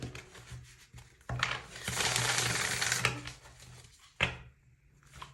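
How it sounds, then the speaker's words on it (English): Tarot card decks are hard shuffled by hand, giving bursts of rapid riffling and slapping cards, with a long dense flurry in the middle and short clacks before and after, close and with no talk. "I feel drawn to do a hard shuffle with some of these decks"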